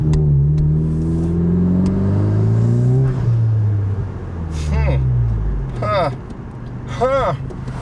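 A 10th-generation Honda Civic Si with an aftermarket turbo inlet pipe, in sport mode, accelerates with a loud rising engine drone that climbs through the gears. Sharp turbo spool and flutter chirps follow near the end, and someone talks over it.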